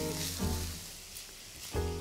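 Garlic and chopped red pepper sizzle in a pan while cooking a dairy-free sweet potato cottage pie, a steady close hiss with a couple of brief louder surges.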